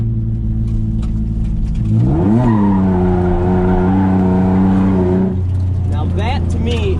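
Drift car at a drifting event, revving hard with a high-RPM clutch kick: engine roar climbing in pitch, then a sustained loud screaming note with tire squeal, dropping off near the end.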